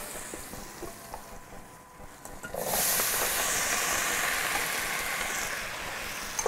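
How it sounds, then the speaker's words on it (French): Rinsed potatoes drop into foaming butter in a pan and set off a sudden loud, steady sizzle that follows a quieter stretch of softer frying. "Donc là, je vais lancer mes pommes de terre. On a un beau beurre moussant."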